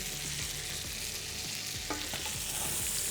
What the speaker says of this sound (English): So start basting the butter again.